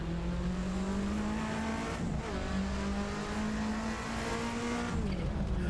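A Ford Sierra Cosworth RS500 mod in Assetto Corsa roars continuously at high revs, its loud, buzzing engine note holding steady with brief dips at gear changes and a faint tire squeal underneath.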